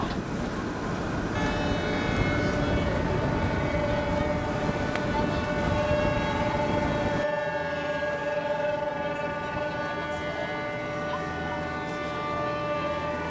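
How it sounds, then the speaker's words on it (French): Several boats blast their sirens together at a sailors' festival, a loud, sustained chord of overlapping horn tones that holds throughout and shifts to a thinner blend partway through. "ça vous dirait pas de faire un gros coup de sirène tous ensemble"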